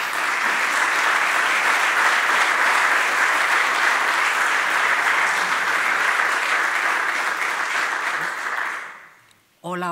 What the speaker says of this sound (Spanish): Un aplauso para doña Inés.